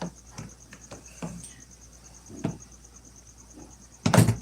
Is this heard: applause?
no